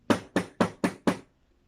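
Five sharp knocks on a door in a quick, even rhythm, close and fairly loud, followed by silence.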